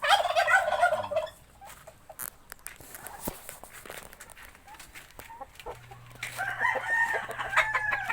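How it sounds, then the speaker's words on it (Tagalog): Turkeys gobble in two loud bursts at the start and end, with quieter farmyard noise and scattered knocks between them. "Nara akong mga pabo guys."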